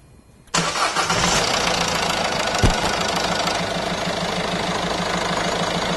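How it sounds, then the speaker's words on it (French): A Peugeot 307 HDi diesel engine cranks and catches after a quiet moment, then settles into a steady, close, knocking idle with one brief clunk midway. "je vais démarrer la voiture pendant une quarantaine de secondes pour remplir le filtre à huile"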